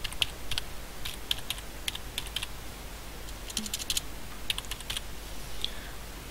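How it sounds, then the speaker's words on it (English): Light, crisp keystrokes on a computer keyboard tapping out a short phrase in a quiet room, arriving in irregular small clusters with brief pauses between them. "I can then type"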